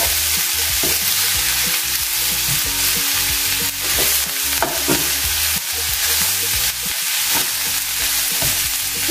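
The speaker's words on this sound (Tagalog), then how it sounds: "Haluin lang natin." Vegetables for spring rolls frying in a pan and being stirred: a steady loud sizzle with repeated scraping and clinking of the utensil against the pan, no talking.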